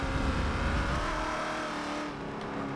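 A car engine in the Forza Motorsport 7 racing game, a vintage sport GT, drones and revs steadily at high pitch, loud and continuous with no talk.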